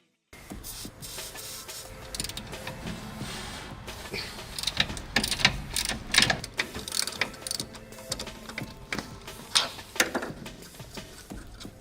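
A ratchet wrench clicks away at bolts on the brake booster brackets underneath a car in a garage, with uneven bursts of rapid ratcheting and metallic clanks, close and moderately loud, with no talking.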